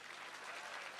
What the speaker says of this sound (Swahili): situmpigie makofi